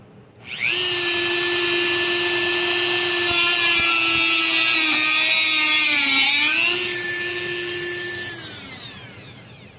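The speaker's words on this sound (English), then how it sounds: "let's see if we can't get this little screw head cut out of there" A loud power tool whines at a steady high pitch, dipping briefly under load as it cuts out a screw head in wood, then winds down at the end.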